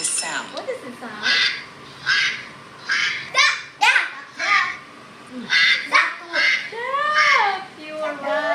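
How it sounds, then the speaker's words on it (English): Repeated duck quacks sound in bursts, fairly loud and close, alternating with a child's and an adult's voices speaking in a guessing game. "It is the voice of a duck."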